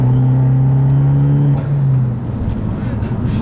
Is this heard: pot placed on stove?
no